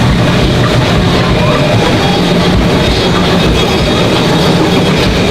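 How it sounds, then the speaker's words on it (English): A zoo train ride rumbles steadily close by at Memphis Zoo, a continuous loud rolling roar with faint rhythmic clatter of wheels on track, no talking. "Hear the train ride going right behind me."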